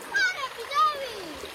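A child splashes in seawater during a picnic outing, with two quick splashes over a brief moment. A voice and an adult's voice are mixed in close by.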